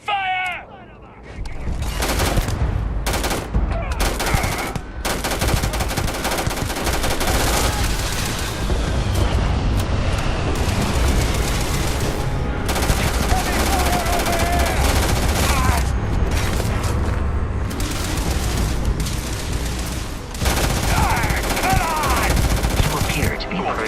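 Combat in the video game Starfield: sustained, loud bursts of automatic gunfire and heavy shots roll on almost without a break, layered with booms and game effects, while voices speak underneath.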